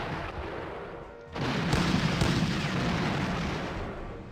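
Artillery fire in a Battle of Pruzana war strategy game, a muffled low rumble that swells suddenly into a heavy, sustained barrage of booms and blasts after a brief quieter stretch, with no speech.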